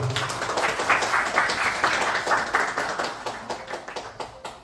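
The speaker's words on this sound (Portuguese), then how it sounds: "Vamos aplaudir o irmão Geraldo." Church congregation applauding, a dense run of claps that pulses unevenly and thins toward the end, fairly close and with no talk over it.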